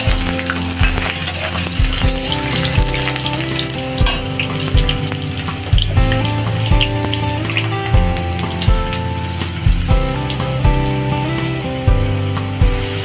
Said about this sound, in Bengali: ভেজে নেব আলুগুলা। আলু আর রসুনটা আমি একসাথে দিয়ে দিয়েছি।